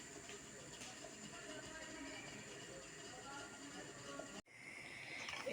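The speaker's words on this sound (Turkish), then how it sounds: "Evet yemeğim kaynıyor." A steady hiss with soft bubbling from leek, carrot and rice stew simmering in a half-covered pot, continuing evenly and briefly cutting out near the end.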